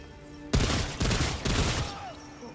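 Pistol gunfire in the Remnant 2 shooter game: three quick, loud bursts of rapid shots close up, each cutting off sharply, with a faint background hum between.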